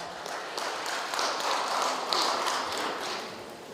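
An indoor audience at a Korean NGO broadcasting station opening ceremony claps together. The dense, moderately soft applause carries on steadily, with a few louder patches of clapping.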